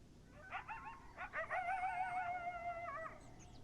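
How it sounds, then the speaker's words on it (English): Coyote howls, a series of wavering, yipping high cries that rise into a drawn-out howl, moderately near over a quiet background with no talk. "Coyote howls is one, sure."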